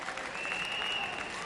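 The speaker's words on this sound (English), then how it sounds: "it's a big round of applause for him now" Sustained audience applause for Bob Hope at the Miss World 1970 pageant, a dense, steady wash of clapping filling the hall without pause, with a faint whistle-like tone sliding through the middle.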